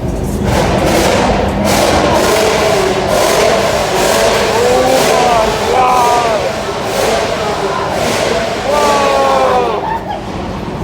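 Cars at a busy street car meet firing off two-step launch control, a rapid crackling burst of pops and bangs over a loud, steady engine roar, with a crowd shouting and cheering throughout.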